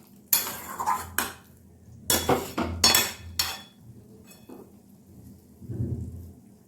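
Ridge gourd curry thickened with ground Gobindobhog rice paste being stirred in a pan, heard as bursts of close scraping and clattering, loud and uneven, with quieter pauses between, no talking.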